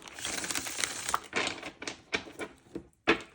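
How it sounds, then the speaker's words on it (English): Tarot cards are shuffled by hand close up, a series of crisp papery riffles and slaps in irregular bursts with short pauses between them. "I'm going to do one more shuffle."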